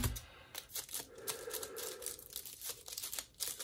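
Large scissors snip through taped plastic packaging of a leather Apple Watch strap, giving a run of close, sharp crackling cuts and rustles over about four seconds with no talking.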